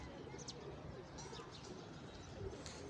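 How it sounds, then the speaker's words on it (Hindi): Sialkoti breeder pigeons coo softly, with faint low murmuring calls and a few light chirps over a steady background hum. "ये मेरे पास बड़ा ब्रीडर पेयर है सियालकोटी कबूतर का।"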